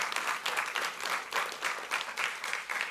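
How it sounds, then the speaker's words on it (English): An audience applauds the Afro Tenors at a ministerial breakfast of the Department of Basic Education, a steady wash of many hands clapping in soft pulsing swells for three seconds, moderately distant and with no talk over it. "Let's give the Afro tenors another round of applause"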